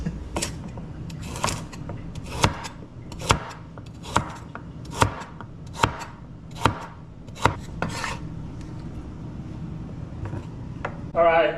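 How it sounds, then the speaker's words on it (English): A knife chops carrots on a cutting board with a rolling technique, about a dozen crisp, evenly spaced strikes landing close and clear, with a brief rustle at the end. "chopping up the carrots."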